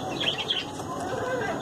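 Australian parrots (budgies) in a breeding cage give quick, bright chirps and twitters, close and continuous for a brief moment with some soft background rustle.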